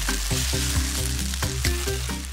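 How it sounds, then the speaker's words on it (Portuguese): Sweet potato gnocchi browns in olive oil in a skillet, a dense, even frying hiss close by, with soft music behind it and no speech. "E aqui é o tempo de dar uma boa dourada nesses nhoques."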